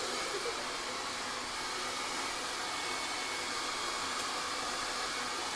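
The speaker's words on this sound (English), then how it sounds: "Okay, I'm gonna blow dry your hair." A handheld blow dryer fitted with a nozzle runs steadily while drying hair during a long layer haircut, a loud, continuous airy whoosh with no pauses and no talking.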